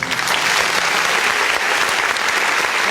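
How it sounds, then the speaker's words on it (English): A live-show audience gives a sustained round of applause after a birthday song, a loud, even wash of many hands clapping together with no pauses. "we'll give them a round of applause also"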